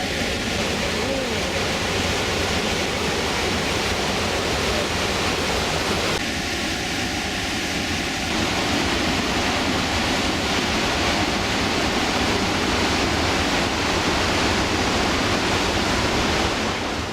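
Steady, dense roar of the Yellowstone River falls in a yellow-rock canyon, continuous broadband rush heard from a distance along a trail, unbroken for the whole stretch with a slight tonal shift midway.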